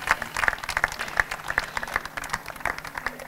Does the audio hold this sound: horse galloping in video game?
no